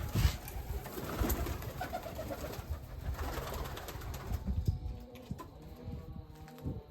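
Budapest breed pigeons cooing softly in a low, rolling murmur inside a loft, fairly quiet, with faint background rustles and ticks.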